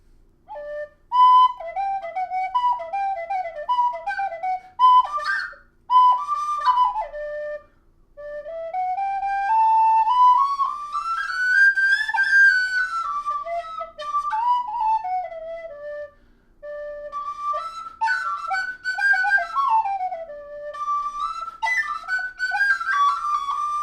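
A tin whistle plays a lively melody of quick trills and sliding notes, bright and close, in phrases separated by brief pauses.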